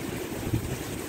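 Steady roaring gusts of Hurricane Ian's wind in Orlando, a dense continuous rush with no voices.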